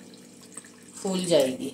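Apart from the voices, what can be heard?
hot water poured to soak the ingredients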